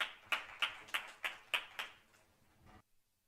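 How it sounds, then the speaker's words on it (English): Hand claps at the end of a conference session on biotechnological omics innovations for agricultural food: about eight sharp, evenly spaced claps, fairly close and fading, then silence. "You can give yourself a round of applause to end off."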